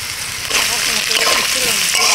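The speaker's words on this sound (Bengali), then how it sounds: "প্রথমে গাজরটা ভেজে নেব।" Sliced carrots fry in a hot pan with a steady, bright sizzle and hiss that lasts throughout, loudening a little after the first half second.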